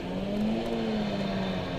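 Race car, number 44 in a one-hour club race, pulls away through pit lane with a steady, close engine drone that holds a sustained tone and builds slightly, with no voices.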